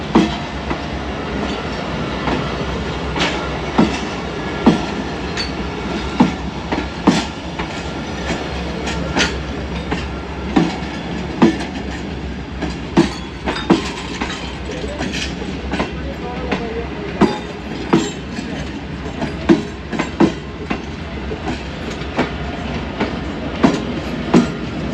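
A Pakistani passenger train, the Pak Business Express, overtakes with a steady rumbling roar and regular clickety-clack from the wheels crossing rail joints, heard from inside a moving carriage.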